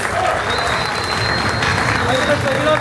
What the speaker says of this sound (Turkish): Alkışlar tüm ekibimize